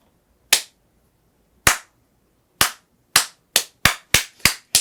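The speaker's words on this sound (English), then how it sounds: "No, first do it a slow clap." Eight sharp single hand claps, alone and close, starting slow with wide gaps and speeding up to a quicker rhythm toward the end.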